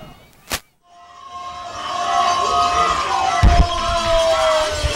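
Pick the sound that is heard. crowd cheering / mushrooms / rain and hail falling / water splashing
crowd cheering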